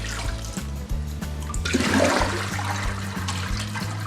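Dirty wash water from callaloo greens being poured out, a steady gushing, splashing rush that swells midway and runs continuously throughout, with no talking.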